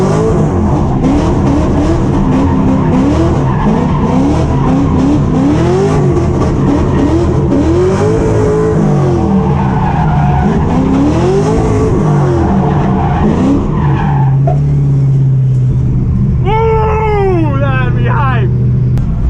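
Car drifting on the Sonoma Raceway road course, its engine loud and close as it revs up and down in repeated surges, then tires squeal in a sustained screech near the end; a voice talks over it.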